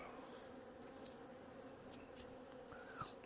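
Bees buzzing around a messy hive during a winter check, a dense steady hum close by with individual bees flying past, no talk.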